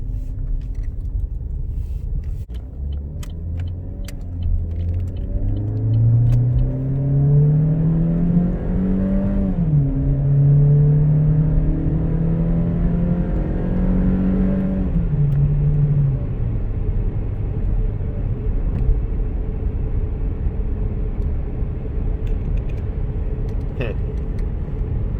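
A Chevrolet Cruze that runs rough and throws multiple fault codes is driven at wide open throttle, a close, droning engine note rising steadily through the gears, holding high, then easing off under muffled cabin rumble.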